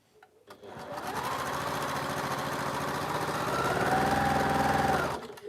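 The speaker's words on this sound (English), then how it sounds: "And now I sew those 2 together." A sewing machine stitches quilt pieces together for a Double Carpenter's Star quilt, running in a steady, continuous mechanical whir for about four seconds before stopping, close and fairly quiet.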